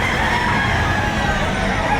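Roosters crowing amid a busy early-morning chicken market in Lipa City, Batangas, loud and close, layered over a steady crowd murmur with voices talking in the background.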